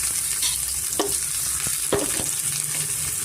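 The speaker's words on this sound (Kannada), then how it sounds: "ಮೆಣಸಿನ್ಕಾಯಿ ಒಂದೆರಡು ಸ್ವಲ್ಪ ಈರುಳ್ಳಿ ಸ್ವಲ್ಪ ನಾವು ಫ್ರೈ ಮಾಡ್ಕೊಬೇಕಾಗತ್ತೆ" A couple of green chillies and some onion frying in a pan for village-style ridge gourd maskai: a continuous bright sizzle punctuated by two or three distinct spatula knocks, close up and without speech.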